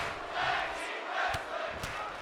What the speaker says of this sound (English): You can hear the SmackDown crowd is thankful for this matchup in the main event